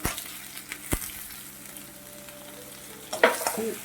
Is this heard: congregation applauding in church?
no